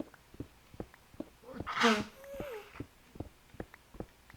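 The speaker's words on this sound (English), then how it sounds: "hold on, I'm gonna sneeze" A single sharp sneeze bursts out in the middle, loud and close, with faint background noise and light clicks before and after.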